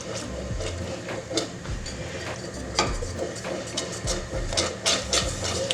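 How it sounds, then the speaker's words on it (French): A whisk clatters rapidly and irregularly against a pot of vegan lemon curd mixture made without eggs, coming up to a boil, giving steady close scraping and tapping with no voices. "on vient fouetter jusqu'à ce que ça monte à ébullition"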